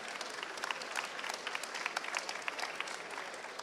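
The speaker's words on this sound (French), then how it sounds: "Si vous avez aimé, vous pouvez applaudir." Audience applause after a French-language talk or presentation, a steady dense wash of many hands clapping at moderate distance, fairly soft and continuous throughout, with no voices.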